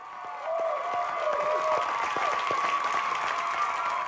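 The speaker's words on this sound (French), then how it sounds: "On applaudit Chuck et Kathleen." A television studio audience breaks into applause and light cheering for contestants Chuck and Kathleen on a dating-style reality show, swelling after a brief start and holding steady beneath a faint tonal music bed.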